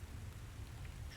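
Steady rain sound effect playing as background ambience at a fantasy tabletop role-playing session, a dense, continuous patter on a surface with a low rumble underneath, fairly quiet and unbroken throughout.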